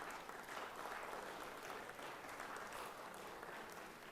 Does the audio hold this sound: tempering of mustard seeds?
no